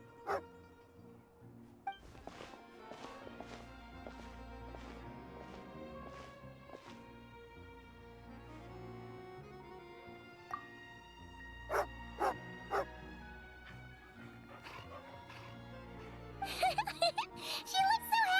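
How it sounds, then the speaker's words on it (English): A dog in the Genshin Impact video game barks and yips in scattered bursts over a soft musical game soundtrack. The barks grow busier and louder toward the end. "This must be one of Alosha's dogs!"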